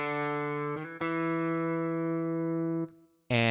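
Sampled electric guitar notes from the Evolution Guitar Engine with a slide sequenced at low velocity: a held, slightly distorted tone that shifts pitch subtly twice, fades out, then a new note starts loudly, with no talking.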